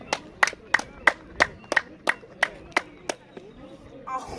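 About ten sharp hand claps at the Chichen Itza pyramid in Mexico, evenly spaced and loud. Each clap is followed by a short ringing echo, and there is a faint rustle at the end.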